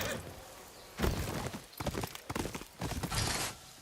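Horse hooves clip-clop on hard ground in a video game, in irregular bursts, fairly close and loud, with short pauses between the steps.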